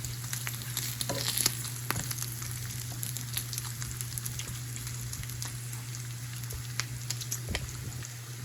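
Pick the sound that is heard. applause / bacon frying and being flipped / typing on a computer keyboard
bacon frying and being flipped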